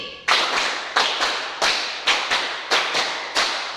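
A room of students clapping in unison during a counting clap game, a steady run of about ten sharp group claps in an even rhythm, loud and close.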